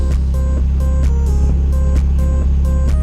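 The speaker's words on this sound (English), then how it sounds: "Starts right up on starting fluid. It's running rough, caught itself." Twin turbo project car engine, started on starting fluid, running rough: a loud, steady low rumble close by with uneven, periodic surges and ticking throughout.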